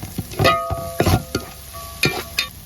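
Curry leaves crackle and sizzle in a hot pan for chicken kuruma while a spoon stirs and scrapes in uneven strokes, close and fairly loud, with no talking.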